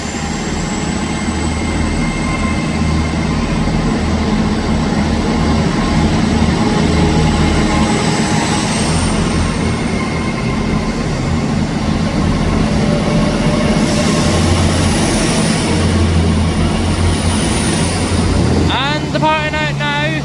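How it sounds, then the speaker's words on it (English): An LNER service from London King's Cross to Aberdeen pulls out of Edinburgh Haymarket station, a loud, steady rumble of train and rail noise that holds throughout, with a shift near the end. "Departing out now is the 10:37 LNER service from London King's Cross to"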